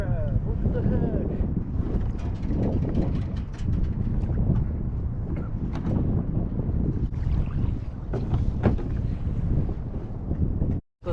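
Wind buffets the microphone on a kayak crabbing trip near a jetty, a steady rough rumble with water sloshing and faint voices.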